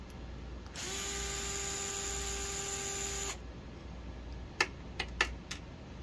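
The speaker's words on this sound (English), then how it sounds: "once we kind of just get the 4 screws out of the sides here" A power tool removes screws from a Traxxas TRX4m RC truck chassis with a steady, high-pitched whir lasting a couple of seconds. Several small, sharp clicks follow in a quiet room.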